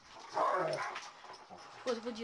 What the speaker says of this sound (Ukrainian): У Джона вдома два пса маламута суміш вовка і собаки.